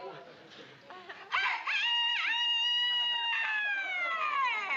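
A man imitates a rooster's cock-a-doodle-doo with his voice, a long, loud rising and falling crow lasting several seconds after some quieter sounds, in a sitcom scene.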